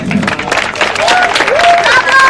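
An audience applauds at a karate anniversary ceremony, with steady clapping running throughout and voices talking over it.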